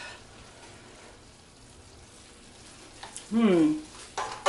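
Risotto sizzles faintly in a pan as it is stirred, a soft steady hiss for several seconds before a voice briefly speaks near the end.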